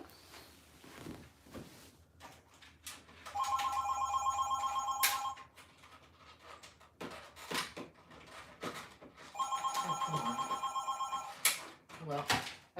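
A landline telephone rings in two loud bursts of bright bell-like trilling, separated by a pause, while someone talks and handles things around it.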